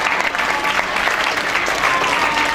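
Sustained, even applause fills a hall as an audience at a science olympiad prize ceremony keeps clapping while guests are honoured, a thick crowd of hands heard close and steady with no break.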